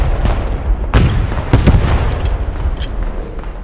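Loud bursts of machine gun fire in the World War II video game Post Scriptum, several sharp cracks and short volleys spread irregularly over a few seconds with rumbling echoes between them.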